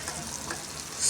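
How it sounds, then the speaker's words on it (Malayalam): Mutton frying in oil with pepper powder as it is stirred, a steady crackling sizzle that swells louder near the end. "ഇനി അതിൽ കുറച്ച് കുരുമുളകും പൊടി ഇട്ടിട്ട് ഒന്ന് വറുത്തെടുക്കട്ടോ"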